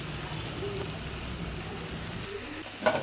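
Chopped vegetables sizzle steadily in a hot pan during a home breakfast preparation, a continuous moderate frying hiss with a sharper clatter near the end, no talking.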